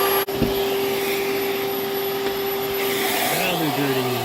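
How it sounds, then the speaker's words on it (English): Vacuum cleaner running steadily inside a Mini Cooper's interior, a constant whine with a tonal hum that shifts pitch near the end, with faint talk over it. "let's give it a bit of a vacuum while we're waiting for the pads, right? Best vacuum ever."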